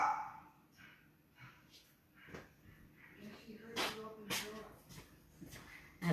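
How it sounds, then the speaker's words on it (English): A dog barks and whimpers in short, scattered bursts, with a sharper yelp near the middle, fairly close and moderately loud amid indoor background noise. "That's her dog."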